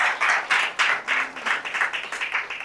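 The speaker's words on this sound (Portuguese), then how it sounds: "dá um aplauso para o Senhor" Congregation in a church clapping, a sparse nearby cluster of hand claps in uneven bursts that speed up into a quicker rhythmic pattern.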